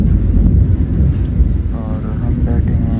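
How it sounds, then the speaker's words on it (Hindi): Deep thunder rumbles loudly over light rain pattering nearby, with a faint voice briefly audible beneath the storm. "बिजली गरज रही है"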